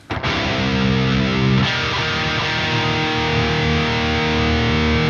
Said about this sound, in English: It doesn't go louder, it just adds more tube up. Power tube sag distortion.